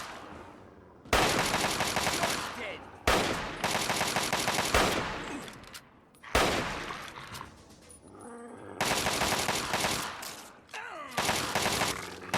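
Heavy automatic gunfire in Fallout 3 comes in long loud bursts separated by short pauses, with sharp repeated shots filling each volley.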